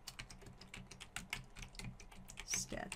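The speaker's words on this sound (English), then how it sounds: "This is where you can type in an item that you're looking for." Quiet clicking of a computer keyboard as a search term is typed, a steady run of light key presses with a few faster bursts, alone and close.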